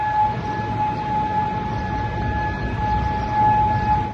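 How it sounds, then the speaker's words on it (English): Air raid sirens across Kuwait City hold a steady wail of two sustained tones over a constant low rumble, continuous and fairly loud for the whole stretch, with no voices. "Air sirens went off across Kuwait City earlier today."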